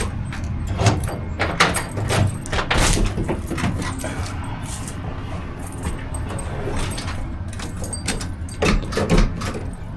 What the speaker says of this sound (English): I guess I got to unlock the door